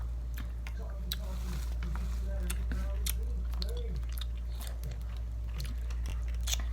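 Sour candies chewed close up, with soft crunching bites and wet mastication repeating steadily over a constant low background hum.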